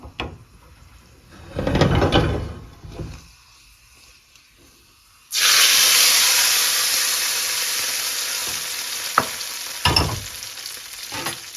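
After a brief scraping sound, hot mustard-seed tempering oil is poured into bitter gourd curry with a sudden loud sizzle that keeps hissing and slowly fades, with a few clinks.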